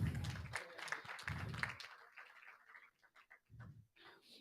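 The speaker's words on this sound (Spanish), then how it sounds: "Denle un aplauso al Rey de Reyes." Church congregation clapping for the King of Kings in two loud bursts of applause, then a quieter pause and a brief third burst, with speech between the bursts.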